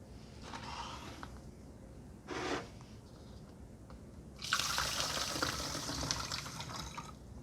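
Water running from a tap into a container for a hydroponic nutrient solution, quiet at first with a brief splash, then a steady louder rushing pour, no talk.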